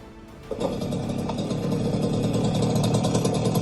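Recorded chainsaw idle played from a speaker in a prop chainsaw, a steady small-engine idle after a brief quieter start, a low rumbling putter with a faint rattling buzz, fairly loud and alone.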